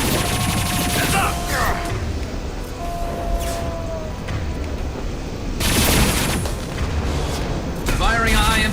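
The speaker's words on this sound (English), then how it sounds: "Firing a high-impact shot." A high-impact shot exploding in the game Rust, heavy booming blasts and rolling gunfire-like bursts over a dense rumble, with a strong surge midway and game voices and radio chatter underneath.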